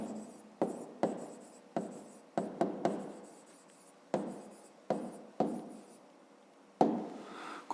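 Handwriting on paper while setting down an answer to a fifth-grade math exercise: close, steady scratching of pen strokes in repeated bursts with short pauses between them, no talk.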